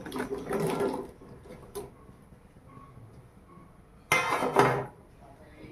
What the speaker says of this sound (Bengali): এবারে কড়াইয়ের মধ্যে দিয়ে দেব কেটে রাখা পেঁপে এবং আলু